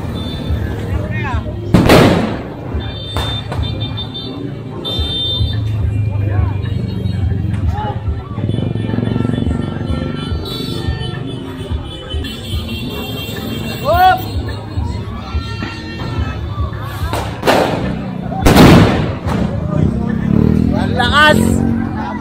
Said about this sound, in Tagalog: ganyan nakalalakas yung mga paputok dito sa Tondo